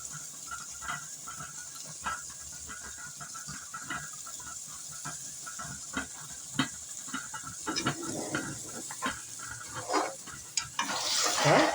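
Mushroom and egg fry being mixed in a hot pan, with repeated spatula scrapes and soft thuds spaced a second or so apart over a constant sizzle that swells into louder hissing toward the end.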